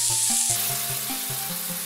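Beef stir-fries in a hot pan, giving a steady close sizzle with scraping and stirring strokes at a regular rhythm and no talking.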